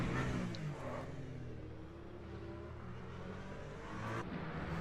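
Race cars, hypercars among them, circle COTA in the Le Mans Ultimate racing game, a continuous engine drone that swells slightly at the start and end, steady and close with no talk over it.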